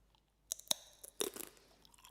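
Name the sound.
chewing crunchy snack with groundnuts, cumin and chili flakes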